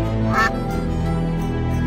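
A cartoon duckling gives a single short quack over a steady, loud music bed.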